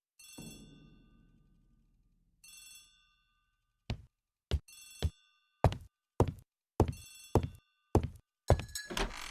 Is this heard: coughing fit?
no